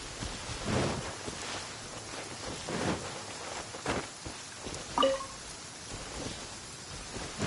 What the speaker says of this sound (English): It's raining again. This will hinder our vision.